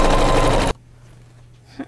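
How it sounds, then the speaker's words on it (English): An embroidery machine stitches out quilting on a Kimberbell flag block, a loud rapid mechanical rattle that cuts off abruptly after under a second, leaving a faint hum and a small knock. "we're going to let the quilting stitch out"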